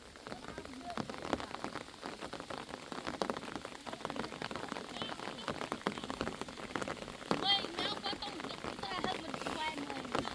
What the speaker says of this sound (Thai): เพราะว่าฝนตกใส่อยู่